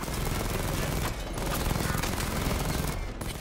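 Rapid bursts of gunfire aimed at the player in Batman: Arkham Knight on PS4 run almost without a break. The crackle is dense and fairly quiet, sitting under a busy game soundscape.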